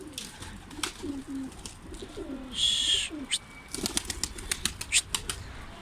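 Stray pigeons on a rooftop terrace, including a grey smoky crested bird, coo softly and flap their wings in short bursts, with a sharper chirp and light tapping, all close by.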